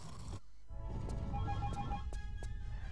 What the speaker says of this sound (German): Mein Telefon klingelt.